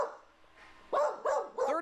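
Three short, close barks from dogs at a crowded animal shelter holding rescued dogs, each burst sharp and loud after a quiet opening.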